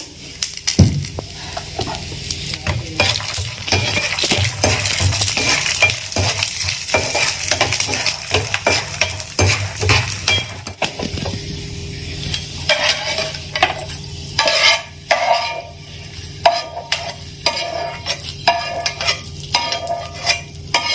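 Cashews sizzle in hot oil while a spoon scrapes and stirs repeatedly against the pan, steady frying with irregular clinks.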